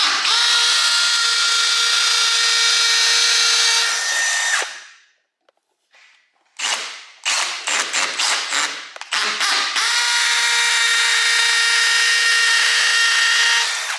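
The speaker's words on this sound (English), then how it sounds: "We've got our drill bit set up on our hammer drill, and we'll just get to drilling these holes." A hammer drill whines loudly into a hole in a wall, stops, starts up in several short bursts, then runs steadily again at full power.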